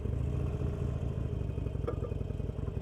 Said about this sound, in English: the engine sounds so much more tuned in